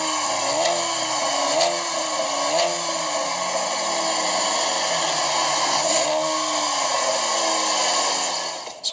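A 2013 Chevy Camaro engine in neutral revs up against its 3,000 rpm rev limiter, producing a loud, close, continuous drone with slight wavering pitch bumps and no voices.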